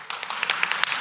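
A church congregation applauding during a sermon, a soft, fairly distant patter of scattered clapping with a few sharper claps standing out over about a second.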